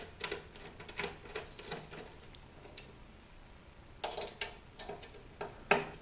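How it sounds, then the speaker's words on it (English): Small screws being backed out of a DVR cable box, removing the two short screws that hold the component video ports: light, irregular ticking and clicking of the screwdriver and metal, with brief clusters of taps and quiet gaps, close by. "So now we're just removing two screws that hold the component video ports together."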